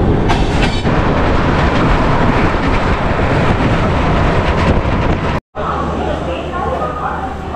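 Dhauli Express passenger train running on the rails, a loud continuous rumble with rattling wheels heard from on board, cut by a brief dropout near the end.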